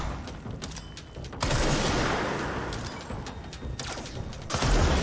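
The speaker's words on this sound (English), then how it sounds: "we can one-shot through the shield" Gunfire in the action video game Control as shots pierce an enemy shield, sharp bursts with a rising whine between them over a rumbling game backdrop, loud and close with no talking.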